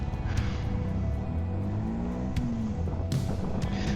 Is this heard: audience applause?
no